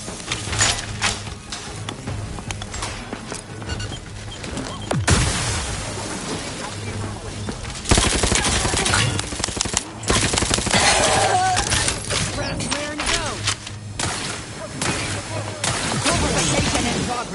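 Sustained gunfire from the sci-fi shooter The Outer Worlds 2, dense bursts and booms running loud and continuous throughout, with a voice speaking over the combat.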